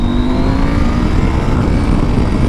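A KTM 890 SMT motorcycle engine pulls hard in third gear, a steady loud drone with a faint rising whine running close and continuous, no talking over it.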